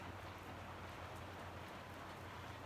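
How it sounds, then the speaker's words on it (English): Steady rain falls outside, a soft continuous hiss of drops on surfaces, faint and even with no talk over it. "The rain's really coming down right now."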